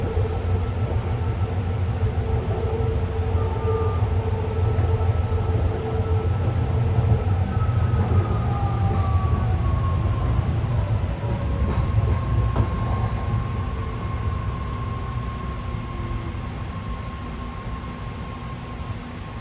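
A BART train rolls along the elevated Orange Line tracks near San Leandro, giving a steady loud rumble with low droning hum and long squealing tones from the wheels, continuous throughout with no talking.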